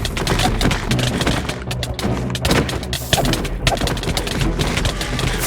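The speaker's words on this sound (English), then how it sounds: "every time those fireworks go off" Minecraft fireworks burst in quick, dense succession, a loud continuous crackle of pops and thumps that fills the whole stretch.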